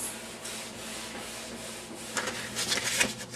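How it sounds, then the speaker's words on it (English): Hand sanding a wood countertop with sandpaper before refinishing, soft close scratchy rubbing strokes that grow louder and more rhythmic toward the end, with no one speaking. "You can actually fold the sandpaper over like that so you get the edge as well."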